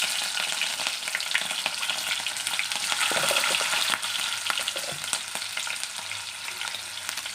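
Green chillies and cumin frying in hot oil, a dense, continuous sizzle and crackle heard close up, with some stirring scrapes and no talking.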